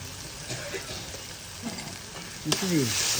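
A large basin of tarka sautéing with turmeric and salt, a steady sizzle under stirring scrapes that grow louder near the end, close by.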